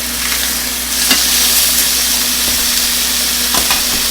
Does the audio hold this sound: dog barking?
no